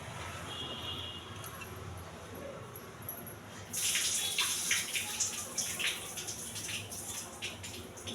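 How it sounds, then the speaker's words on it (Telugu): Soaked red rice being washed by hand in water, with a soft steady trickle that turns into louder, close sloshing and splashing partway through, no voices. "బాగా నానిన తర్వాత ఒకసారి కడగాలండి"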